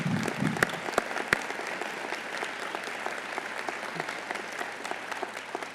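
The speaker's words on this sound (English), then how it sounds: "stand for a huge round of applause." An audience at a city's State of the City address gives a big round of applause to standing board members, a steady wash of clapping with a few sharp, close claps near the start.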